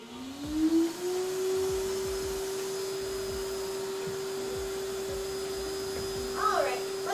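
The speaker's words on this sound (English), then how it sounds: "Turning on the vacuum." A vacuum cleaner switches on during a costume crafting session, its motor whining up to a steady, loud, continuous drone that holds for several seconds, close by.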